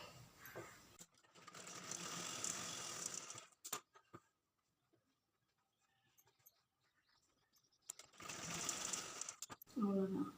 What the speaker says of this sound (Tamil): லைனிங் உள்ள பேக் சைடு தைச்சாச்சு